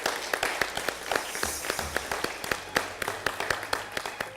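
An audience applauds a contestant at a cooking competition, dense clapping with several sharp distinct claps standing out close by, steady and moderately loud, no talk.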